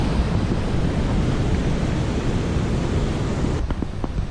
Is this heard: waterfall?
yes